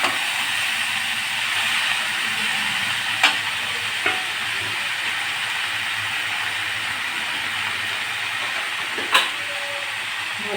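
Water spinach greens fry in a pan for a potato and kalmi shak chorchori, a steady close sizzle broken by a few sharp spatula knocks and scrapes as they are stirred.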